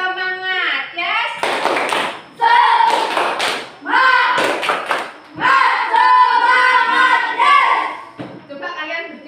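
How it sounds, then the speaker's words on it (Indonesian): A school class does a rhythmic 'tepuk semangat' clapping chant, with bursts of hand claps and thumps in a patterned beat mixed with loud group chanting and children's voices in a classroom. "kita akan melakukan tepuk semangat"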